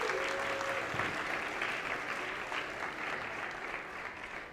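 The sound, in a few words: applause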